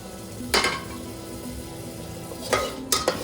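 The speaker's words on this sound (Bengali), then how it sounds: "আবারও 2 থেকে 3 মিনিট নাড়াচাড়া করে নেব।" Mushroom masala being stirred in a pan, a soft continuous sizzle broken by a few sharp scrapes and clinks of the spoon against the metal.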